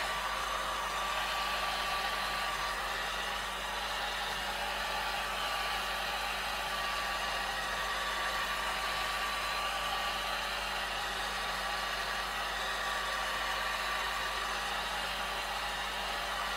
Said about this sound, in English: right now I am drying it from the top, and that creates different kinds of textures